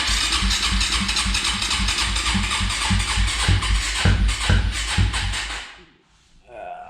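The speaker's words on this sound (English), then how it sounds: "as soon as I turn the gas on, she don't want to run now. See if the choke works" A 2004 Suzuki LTZ250 ATV engine cranks and sputters, trying to run with uneven chugging bursts, loud and close, then cuts out into near silence before a brief faint restart attempt.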